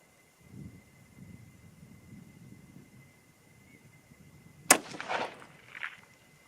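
A single sharp rifle shot from a Seekins Precision Havak HIT cracks out loudly outdoors and is followed by a brief echo, after a stretch of low wind rumble.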